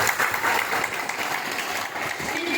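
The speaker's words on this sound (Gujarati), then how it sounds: "એકવાર વર્કશોપ માટે જોરદાર તાળી" A dense, steady wash of clapping from an audience at a workshop gathering, loud and continuous for a couple of seconds with no pauses.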